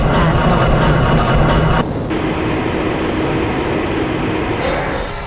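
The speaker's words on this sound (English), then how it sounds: "This train is inbound from the Area 8 topside dormitories to the Central Transit Hub in Area 9." A Black Mesa transit tram in Half-Life Blue Shift rolls along with a steady, loud mechanical rumble and whine, the tone shifting and settling midway as it continues moving, no speech heard.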